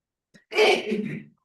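A single sneeze, brief and close, a quick intake followed by a sharp, breathy burst that trails off.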